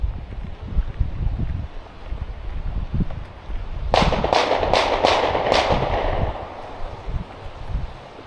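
Shots ring out from hunters near a wooded trail, a quick cluster of about five sharp cracks, fairly close and loud, heard over wind and rustling outdoor ambience.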